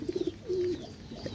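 Pigeons coo in a home loft, a quick run of four short soft notes followed by one longer drawn-out coo, fairly close with faint background noise.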